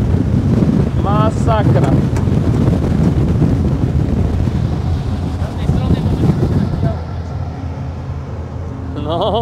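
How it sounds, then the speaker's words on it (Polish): Strong wind roars and buffets across the microphone on a fast-moving boat heading into the wind off the Croatian island of Mljet, a loud constant rush with a voice speaking briefly over it. "O, ale wieje."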